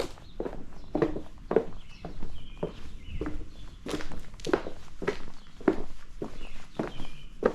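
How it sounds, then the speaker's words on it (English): Footsteps cross interlocking plastic garage floor tiles, about a dozen close, hollow, clacky steps at a steady walking pace, sounding alone with no talk. "Kind of sounds like you're walking on, well, plastic tiles."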